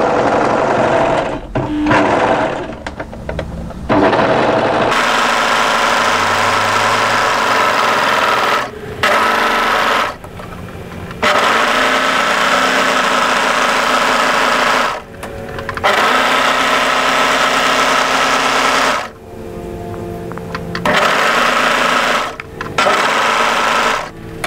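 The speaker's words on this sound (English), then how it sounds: "we're just going to overlock on the edge of that to secure it" An overlocker serges the edge of a cami facing in long, loud buzzing runs of several seconds each, broken by short pauses as the fabric is repositioned.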